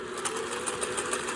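Singer 401A sewing machine running a decorative stitch, a fast steady mechanical whir with regular needle ticks, close and unbroken.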